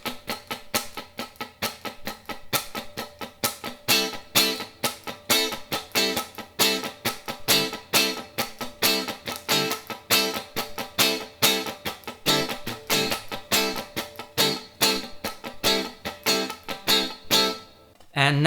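Funk guitar strums a clave rhythm, crisp percussive chords in a steady syncopated pattern with muted scratches between accents, played alone and close for the whole stretch.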